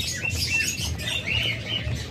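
King quail birds calling, brief high chirps and tweets repeating close by over a low background murmur.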